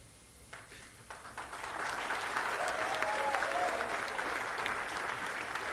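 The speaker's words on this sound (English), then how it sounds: "Oh, applause." An audience at a Canadian political speech breaks into applause that swells within the first two seconds into a steady, fairly distant wash of clapping.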